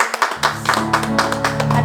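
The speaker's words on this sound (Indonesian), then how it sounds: "Beri tepuk tangan buat Tuhan Yesus." Children at a kids' church service clap their hands in a lively, fairly regular rhythm that fills the space, with a low sustained tone humming steadily beneath the claps.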